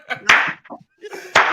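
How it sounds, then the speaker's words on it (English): Two loud, sharp hand claps about a second apart, a slow deliberate clap in a podcast studio, with brief voice sounds in between. "Jay said he wants to inspire the slow inspiring clap."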